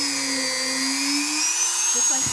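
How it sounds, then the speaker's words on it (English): A rotary tool fitted with a very fine bit drills a hole into a golf ball, giving a steady, high, whining drone close by that shifts slightly in pitch as the bit bites. "I have my rotary tool with a very fine bit on here."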